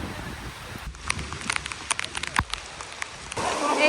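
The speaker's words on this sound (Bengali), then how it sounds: "দেখুন বৃষ্টি হচ্ছে দেখুন বহুদিন পর আবার এরকম সাদা হয়ে বৃষ্টি হচ্ছে" Heavy rain falling outdoors, a steady patter with scattered louder drops striking nearby surfaces, the downpour swelling toward the end.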